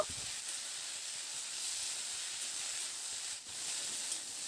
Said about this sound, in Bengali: এবার আলুটাকে নাড়াচাড়া করে মিনিট তিন চারের সময় ধরে প্রথমে আলুটাকে একটু ভেজে নেব